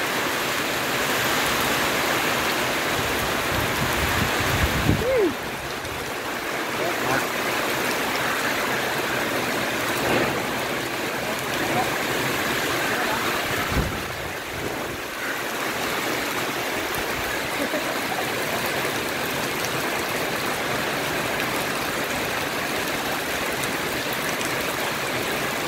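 Heavy rain pours down outdoors in a storm, a dense, steady hiss that fills the whole stretch. Only brief faint bumps break the continuous wash.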